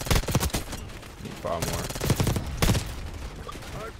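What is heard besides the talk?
Kompakt 92 SMG gunfire in video game Black Ops 6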